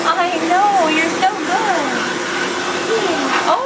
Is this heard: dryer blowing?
yes